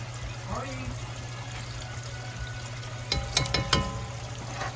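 A tablespoon of tomato paste sizzles in a pot of rustic vegetable soup, a soft frying hiss under a steady hum, a voice talking, and a short burst of utensil clatter near the end.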